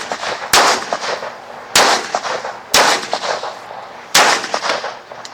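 Four loud, sharp pistol shots ring out at an Israeli shooting range, spaced roughly a second apart, each with a brief ringing decay and no talking between them.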